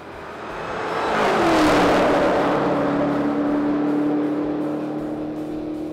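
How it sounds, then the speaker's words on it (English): A 2018 Dodge Challenger Hellcat Widebody with a supercharged V8 accelerates nearby, its engine rising to a loud roar and then settling into a sustained high whine and drone. "We're driving the all-new Challenger Hellcat Widebody"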